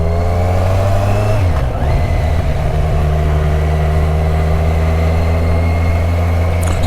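A 2015 Kawasaki Z1000 Sugomi motorcycle pulls away in second gear, its engine note dipping briefly and then holding a loud, steady, close drone throughout with no talking.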